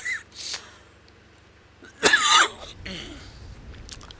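A single harsh cough bursts out close by, with a few faint breaths and rustles before and after in an otherwise quiet space.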